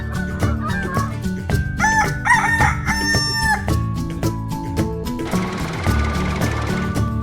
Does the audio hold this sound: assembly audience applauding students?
no